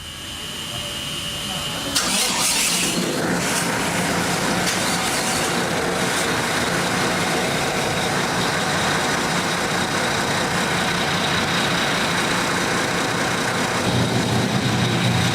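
Twin 4,000-horsepower V12 engines of a Lamborghini-based powerboat run as a loud, steady roar with broad rushing noise, surging sharply after a couple of seconds and holding constant throughout.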